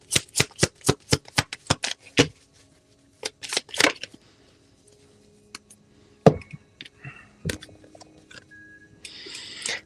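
Tarot cards shuffled in quick bursts, a fast run of crisp riffling snaps followed by scattered single flicks and taps of cards being laid down, close and clear with no talk.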